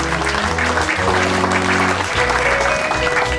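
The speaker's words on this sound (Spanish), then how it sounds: "Fuerte el aplauso para todos ellos." Audience at the Barranquitas Sports Hall of Fame ceremony applauds press members, loud continuous clapping from a crowd over a low, steady hum of background music or sound system.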